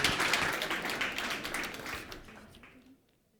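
An audience applauds after a panel discussion at a Tunisian business forum, a dense burst of clapping that carries strongly for about two seconds, then thins and fades out near the end.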